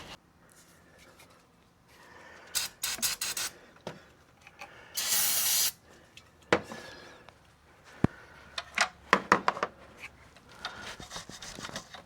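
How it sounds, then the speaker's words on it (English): Brake cleaner sprayed onto the throttle body of a 2019 Nissan Armada: one loud hissing spray burst lasting under a second, amid close brushing, scrubbing and clattering handling noises. "Let me get a brush and some brake clean."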